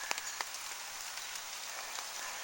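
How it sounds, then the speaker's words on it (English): Steady rain patters on a large hammock camping tarp, a dense continuous hiss of drops with occasional louder taps, close and alone with no voices. "Should keep the rain off"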